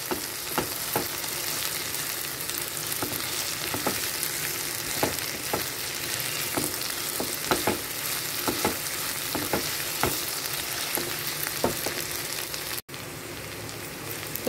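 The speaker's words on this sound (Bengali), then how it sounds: "দেখো বন্ধুরা আলুটা ভাজা হয়ে এসছে, পেঁয়াজটাও লাল লাল হয়ে এসছে।" Potatoes and onions sizzle in a frying pan, a soft, even crackling hiss with light stirring taps throughout, fairly quiet and uninterrupted by any voice.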